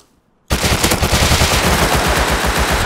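Sustained automatic gunfire in a video game, a loud, dense stream of rapid shots that starts abruptly after a short silence and keeps going without a break.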